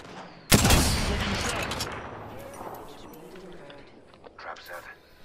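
Video game gunfire erupts in a sudden loud burst of rapid shots, then decays into a rumbling tail with scattered fainter pops, while a voice is heard talking.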